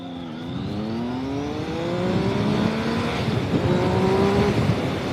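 A 2017 Triumph Speed Triple 1050 motorcycle accelerating hard, its three-cylinder engine rising steadily in pitch through the gears with one shift partway through, loud and close with no talk.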